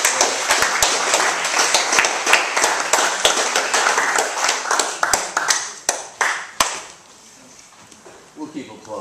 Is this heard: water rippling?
no